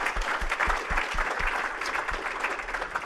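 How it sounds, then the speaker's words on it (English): Audience applause for the Chamber team at a smart contracts symposium panel, a steady wash of many hands clapping at moderate distance, sustained throughout with no voices standing out. "let's give another round of applause for the Chamber team."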